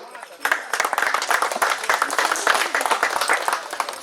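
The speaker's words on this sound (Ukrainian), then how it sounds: "Ця команда заслуговує аплодисментів." A crowd at a football tournament award ceremony applauds the bronze-medal team, FC Gomel of Belarus, with loud, sustained clapping that bursts in after a short quiet start and carries on evenly to the end.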